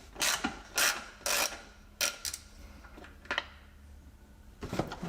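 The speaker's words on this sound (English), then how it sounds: "one more Torx 27 here at the rear portion" Torx 27 screw being removed at the rear of a Jaguar S-Type, a series of short ratcheting clicks and scraping bursts in uneven rhythm, close and fairly quiet.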